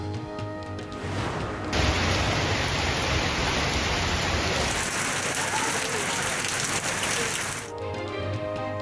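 Steady rain pours down in Karachi, a dense, even hiss of drops on surfaces that swells louder midway and stays constant, with no voices over it.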